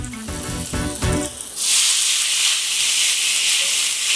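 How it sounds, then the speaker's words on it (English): Loud, steady sizzling of mushrooms hitting hot oil in a pan, a bright hissing sizzle that starts after a few soft clinks and continues without pause. "make sure that you have that nice sizzle"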